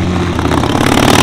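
Motorcycle engine at the Normandy Beach Race, a loud, steady close-up roar with a rough, pulsing mid-range drone that holds for a brief moment without voices.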